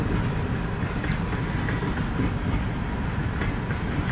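A southbound CN mixed freight train with four CN locomotives rolls steadily past at close range, a continuous broad rumble of rail cars with faint rhythmic clatter as it slows near the yard.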